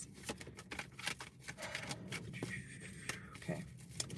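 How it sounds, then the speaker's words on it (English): Tarot cards being shuffled by hand, a run of soft papery riffles and slides, close and moderately quiet, with a voice talking intermittently over it. "Shuffle, shuffle, shuffle."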